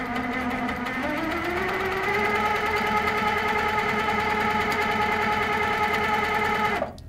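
A sewing machine stitches a number six spiral, running in a continuous close whirring hum that rises in pitch at first and then holds steady before stopping.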